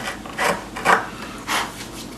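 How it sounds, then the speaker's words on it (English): A carriage bolt is pushed through a hole in wooden benchwork for an N scale model railway layout, giving three short rubbing scrapes of metal against wood, close and fairly soft, with quiet gaps between them. "we're going to take the bolt and push it through."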